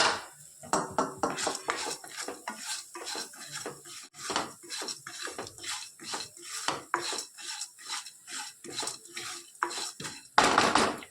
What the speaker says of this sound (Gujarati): થોડો દાળનો કલર ચેન્જ થાય ત્યાં સુધી સરસ એને શેકાવા દઈએ